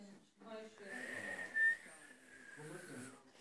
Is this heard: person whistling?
yes